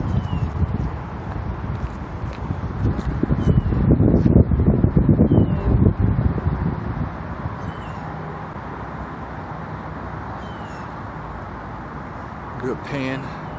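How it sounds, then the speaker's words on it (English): Highway 75 traffic outside a shopping mall makes a steady broadband roar of passing cars, with a louder swell early on, heard continuously in the open air with some wind on the microphone. "you can hear the roar of the highway, Highway 75 over there. You can hear all the cars"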